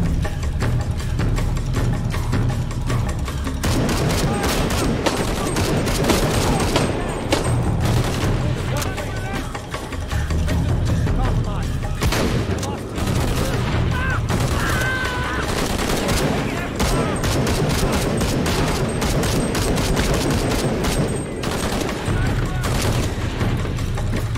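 Incendiary-ammo gunfire in Shadow of the Tomb Raider rattles in dense, continuous bursts with booming impacts, loud and close throughout, with some game voices mixed in.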